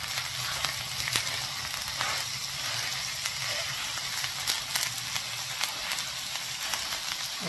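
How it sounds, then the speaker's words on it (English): Olive oil heating in a pan crackles with a continuous close sizzle and scattered sharp pops throughout, with no voices. "this olive oil is just popping"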